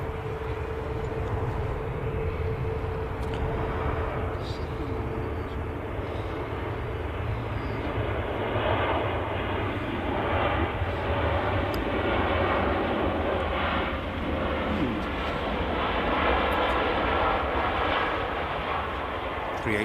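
An Emirates Airbus A380 pushes back at Manchester Airport. Its engines make a steady, broad roar that holds for the whole stretch, and people chat faintly underneath.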